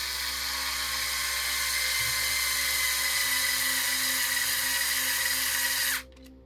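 A power driver whines at a steady high pitch while driving screws into a DX44 portal wide front axle of Capra width, loud and close, then cuts off abruptly near the end.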